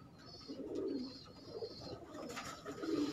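Pigeons cooing in a breeder setup, soft low throaty coos repeating in a few rounded phrases, fairly faint, with a brief higher chirp and light background noise.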